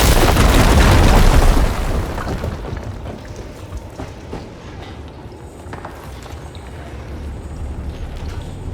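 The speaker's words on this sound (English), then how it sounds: "Should be able to blow up that fire gleam." A fire gleam blown apart in Horizon Forbidden West: a heavy, loud boom that rumbles for under two seconds, then settles into a low, lingering rumble with scattered debris and cave ambience.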